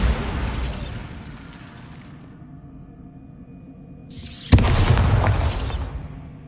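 A Bombarda spell explodes in Hogwarts Legacy, a loud burst with a sharp crack that rolls on briefly, after a fading earlier blast and a quiet stretch with a faint tonal hum.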